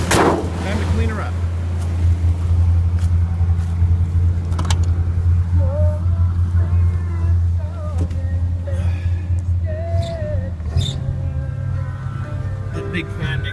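A 1979 W200 Power Wagon engine running after a cold start, its big fan turning: a loud, steady low rumble with slight rises in pitch as it revs, and faint voices now and then over the engine.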